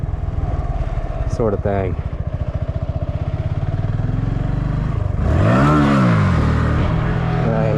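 Motorcycle engine revving hard as the rider clutches out in a practice lot, a rising and falling engine note with a loud surge near the end, while a person talks over much of it.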